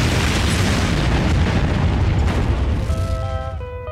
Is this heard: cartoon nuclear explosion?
yes